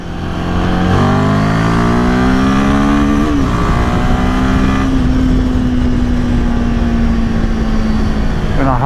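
A 2025 Royal Enfield Himalayan 450 pulls onto a highway, its single-cylinder engine climbing through the gears with rising and falling revs. Loud wind rush and a steady engine drone follow, and a rider speaks over the noise.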